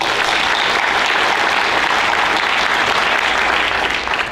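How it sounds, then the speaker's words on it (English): An audience at an athletic hall of fame induction ceremony applauds for the event's sponsors, a dense, steady wash of clapping at full strength that holds for about four seconds before easing slightly at the end. "let's give them a round of applause"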